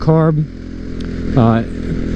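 A modified motorcycle with an aftermarket carburetor kit, air filter and air intake idles with a low, steady rumble beneath a voice speaking close by.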